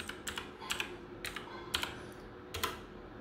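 Quick bursts of keystrokes on a computer keyboard while a pip install command for pygame is entered in a terminal, clicking close and distinct in small clusters with short pauses between them.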